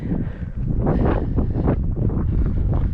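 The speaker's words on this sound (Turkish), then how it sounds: "Hafif bir rüzgar var tatlı rüzgar." Light wind sweeps across a November pasture where cattle graze, buffeting the microphone in a steady, loud, rumbling rush with no voices.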